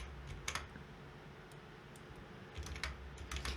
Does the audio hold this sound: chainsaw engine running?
no